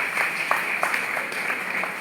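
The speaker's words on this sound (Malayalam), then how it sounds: "എല്ലാവരും ഒന്ന് കൈയടിച്ച് പ്രോത്സാഹിപ്പിക്കുക." Audience at an alumni inaugural function claps in steady, dense applause throughout, with scattered sharper individual claps standing out.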